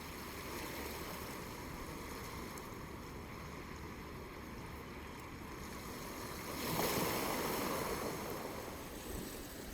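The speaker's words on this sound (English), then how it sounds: "just that tide rolling." Ocean surf rolling onto a beach during a fishing trip, a continuous broad wash of waves with wind noise on the microphone and one louder surge of breaking water partway through, no voices.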